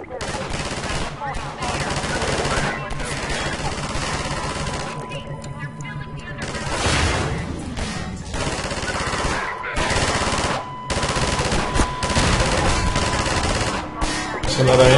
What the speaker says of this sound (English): This machine gun should help me.